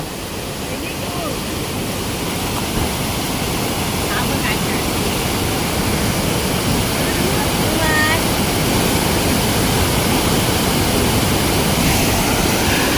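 Steady, loud roar of a waterfall pouring onto small stones into a shallow stream pool in the Konkan countryside, a dense broadband rush filling the whole stretch, with faint voices talking underneath.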